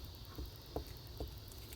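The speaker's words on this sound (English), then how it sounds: "the glue stick I have sitting aside for when this one runs out, that one fell over" A spare glue stick topples over on a craft counter, giving a few light, faint plastic taps spaced about half a second apart in an otherwise quiet room.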